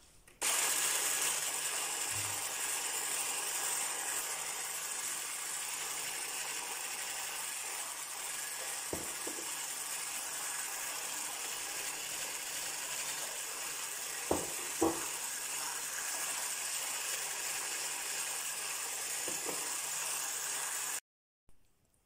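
Egg yolks being beaten with sugar for a chocolate chiffon sponge cake, a steady whirring mixer hum that runs unbroken and fairly loud, with a few brief clinks against the bowl and no talking.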